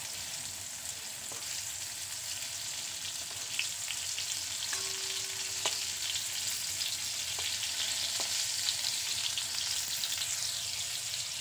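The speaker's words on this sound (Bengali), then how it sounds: "পটলগুলো দুপাশ থেকে খুব ভালো করে ভেজে নিয়েছি" Pointed gourd (potol) fries in white oil, making a constant quiet sizzle with a few faint taps from the utensil.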